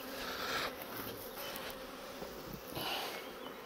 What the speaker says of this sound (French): Oh si, il y a des abeilles là quand même.